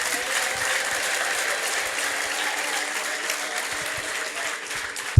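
An audience at a church gathering claps in sustained, dense applause, steady and fairly close throughout.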